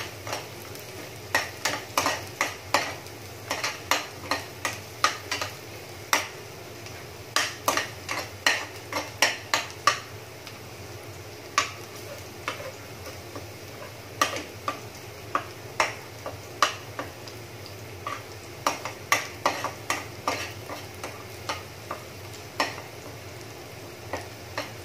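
Ginisang upo sautéing in a pan while being stirred, a soft continuous sizzle under frequent clattering scrapes and taps of a utensil against the pan, steady and close.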